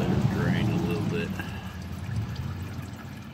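Engine oil draining out of a Volkswagen Routan into a catch pan outdoors, a steady liquid pour and trickle that holds fairly even throughout at close range, with no talk.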